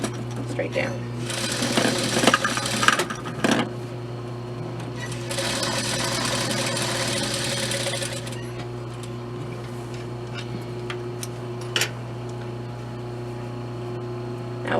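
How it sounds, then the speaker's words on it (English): A sewing machine stitches a strip of lace straight down onto a knot dress, its steady mechanical hum running in bursts with brief pauses, close and moderately loud under a low constant drone. "sew your piece of lace, in this case, straight down"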